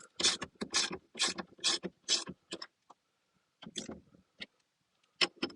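Close ratchet clicks from a 10 mm wrench loosening the battery terminal bolts on a Mercedes W222 S-Class, in quick bursts of rapid clicking separated by short pauses, with no talking.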